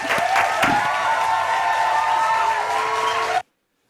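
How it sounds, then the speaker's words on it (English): Audience clapping and cheering at a teen-focused urban event, a steady dense wash of hands with some whoops, loud and close, holding for about three and a half seconds before cutting off abruptly. "you get the clapping up in here"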